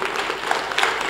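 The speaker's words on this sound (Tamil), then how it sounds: "அவருக்கு இன்னும் கைத்தட்டல் பத்தாது" Audience applause at a music sabha in Nellai, a steady wash of clapping from a crowd, dense and continuous through the moment with no voices over it.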